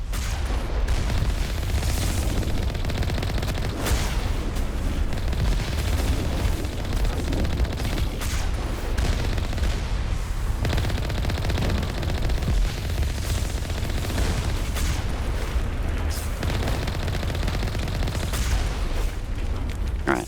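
Sustained exchange of weapon fire against a Geth turret in the Mass Effect video game, dense overlapping shots and booms filling the whole stretch at steady loudness, with no pauses.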